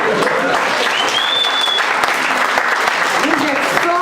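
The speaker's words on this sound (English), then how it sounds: "Let's clap hands to God." Church congregation clapping hands together in sustained, dense applause that fills the whole stretch, with a whistle or cheer rising briefly over it and some voices mixed in.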